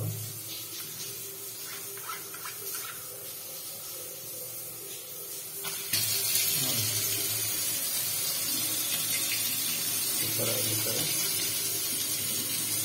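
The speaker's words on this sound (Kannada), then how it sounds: "ಟ್ಯಾಪ್ ಆನ್ ಮಾಡಿದ್ದೀನಿ." Water runs from a sink tap and a shower, a steady close hiss that grows louder and fuller partway through as more flow comes on, with a voice speaking at times.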